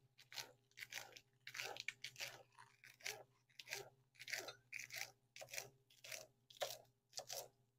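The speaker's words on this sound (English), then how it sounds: "So I'm going to chop up a little bit of romaine." A knife chops through crisp romaine lettuce on a board in a kitchen, a run of a dozen or so sharp crunching cuts at a steady rhythm, close and clear with a faint hum beneath.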